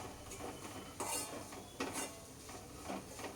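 Coriander and turmeric powder stirred in a metal pan along with red chilli powder, giving scraping and clinking of a spoon against the pan in several short bursts, close and moderately loud.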